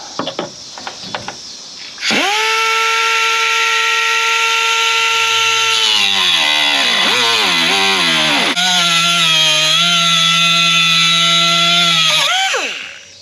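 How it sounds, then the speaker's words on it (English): A cutoff wheel cuts through the headlight housing of a C3 Corvette, spinning up to a loud, sustained high-pitched whine, dipping in pitch as it bites into the part, then winding down. "Okay, I'm just using this cutoff wheel."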